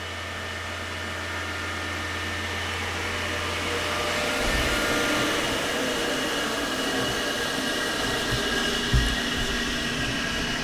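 A Delta Invicta RT-40 16-inch table saw with new bearings starts up and runs, a steady broadband whirring hum that rises after a few seconds and holds evenly, close and fairly loud, with no talk.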